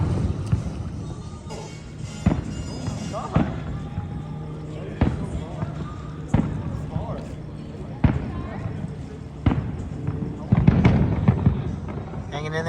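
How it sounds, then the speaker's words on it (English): Fireworks over Disneyland watched from a nearby Anaheim hotel, sounding as repeated distant booms and pops at irregular intervals, with people talking throughout. "There's some fireworks."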